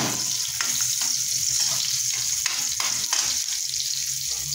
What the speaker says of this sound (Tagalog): gigisa natin yung ating kamatis